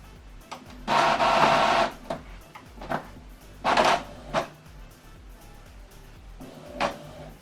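An Epson WorkForce printer printing a page makes several mechanical whirring bursts: a long one near the start, shorter ones in the middle and a brief one near the end, with quiet gaps between them. No talking is heard.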